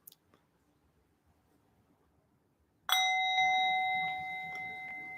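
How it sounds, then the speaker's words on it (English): A small hand bell is struck once during a meditation session, ringing out with a clear, sustained metallic tone that lingers and slowly fades after a few seconds of near silence. "I have a little bell now."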